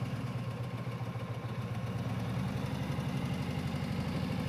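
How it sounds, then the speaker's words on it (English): A motorcycle engine runs steadily with a low, throbbing rumble, idling evenly and fairly close, with no talking over it. "I am really glad that I'm riding a motorcycle"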